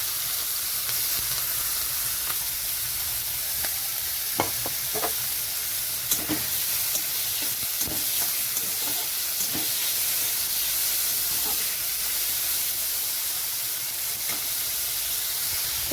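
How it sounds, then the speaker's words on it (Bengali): Ground spice paste sizzles in hot mustard oil for chicken balls, a steady bright frying hiss with scattered crackles and pops throughout, close and continuous with no voices. "তো এখানে তেলটা গরম হয়ে গেছে, তো এখানে দিয়ে দিচ্ছি আমি"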